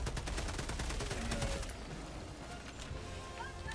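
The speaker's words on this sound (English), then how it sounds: "Alright, just shoot them." Rapid automatic gunfire in the video game Helldivers 2, a dense burst of shots up front that thins into scattered distant fire and faint effects.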